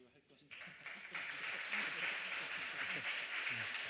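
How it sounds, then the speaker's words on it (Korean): A church congregation at a Sunday evening praise service applauds as a missionary is welcomed, the clapping swelling after a quiet start into a steady dense patter, with talk mixed in. "박수를 할 것인가?"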